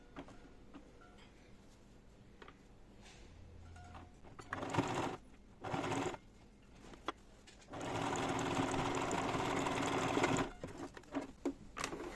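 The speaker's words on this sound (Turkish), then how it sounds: "Dikişi basalım." A sewing machine stitches a seam on a fabric door organizer in short bursts of rapid, close mechanical chatter, with a longer run of about three seconds and quiet pauses and small clicks between them.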